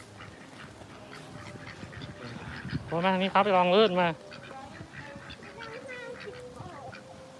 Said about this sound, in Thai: เป็ด เป็ดมีเป็ดด้วยนี่มีเป็ด